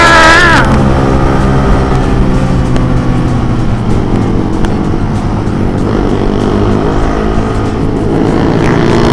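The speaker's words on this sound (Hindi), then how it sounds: "केटीएम वाले बस लाउड है" Loud KTM motorcycle engine running steadily at close range on a group ride, a sustained heavy drone with rumbling harmonics that continues without a break for the whole stretch.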